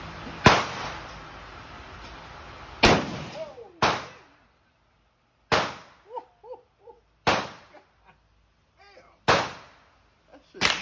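A Thompson/Center Contender pistol fires several sharp, loud single shots spaced a second or more apart, each with a short decaying tail, with brief voices and reactions heard between the shots.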